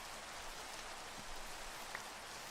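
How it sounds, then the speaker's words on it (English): Steady rain pouring in Minecraft, a dense, even hiss of falling drops filling the whole stretch with no talk over it. "And of course it's raining. I'm working in the rain, rain, rain, rain, rain."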